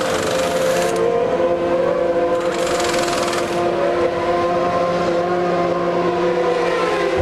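A Benetton Formula 1 car idles and revs loudly and steadily in the pit lane during a pit stop at the 1995 British Grand Prix, with a constant engine drone and no clear talking.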